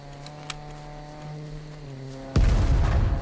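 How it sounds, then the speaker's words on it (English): Land mines going off under a vehicle in the video game Scum, one sudden heavy blast cutting in after a quiet stretch of steady engine hum, then a loud rumbling roar. "He actually ran over both my mines."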